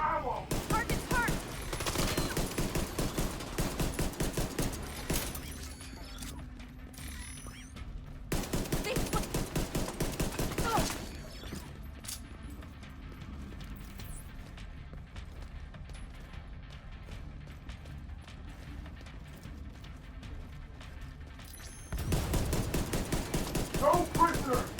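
Gunfire in The Division 2 comes as dense rapid automatic bursts in several long loud stretches, with scattered shots, mechanical clatter and occasional shouted voices during the quieter middle.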